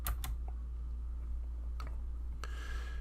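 A single delete key pressed on a computer keyboard gives a few faint, sharp clicks near the start and again at intervals over a steady low hum.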